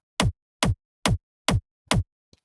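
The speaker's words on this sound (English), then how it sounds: "Now, next layer is this top kick." Five punchy techno kick drum hits from a top kick layer sample, evenly spaced and played alone, each a short tight thump with a bright clicky attack.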